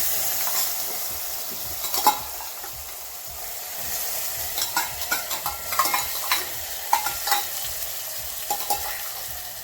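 Cluster beans (guvar) sizzle steadily in hot oil seasoned with mustard seeds, cumin and asafoetida, with a continuous frying hiss broken by scattered scraping clicks of a spoon stirring the pan.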